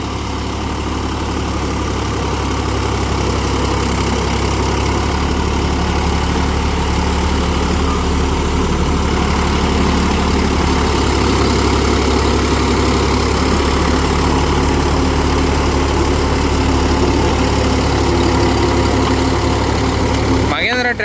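A Mahindra YUVO 475 DI Tech plus tractor works in a field, puddling with an M Bull implement. Its engine gives a steady, loud, continuous drone from start to finish.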